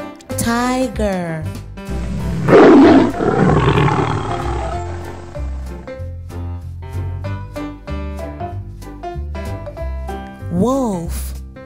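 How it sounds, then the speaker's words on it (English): A deep, powerful tiger roar swells loudly and rumbles for a couple of seconds over background music, with brief swooping tones before and after. "Tiger."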